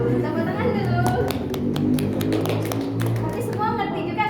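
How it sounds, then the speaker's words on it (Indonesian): Students in a classroom clap together in a steady, busy patter of hands that runs the whole few seconds, with children's voices and chatter mixed underneath. "Tepuk tangan dulu."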